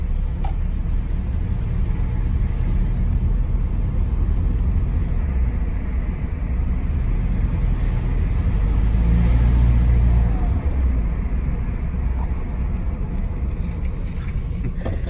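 A Rolls-Royce Silver Shadow driving in traffic, a steady low engine and road rumble heard from inside the car, continuous and fairly loud with a slight swell midway.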